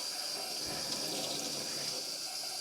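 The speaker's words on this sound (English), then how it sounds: "So I'm just giving this a little bit of a rinse" Tap water runs steadily over dyed cotton yarn being rinsed in a sink, a continuous close splashing rush that holds even and unbroken throughout, with no one talking.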